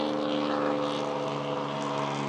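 A loud, droning engine exhaust rumbles nearby, a steady throbbing roar that holds for a couple of seconds without easing.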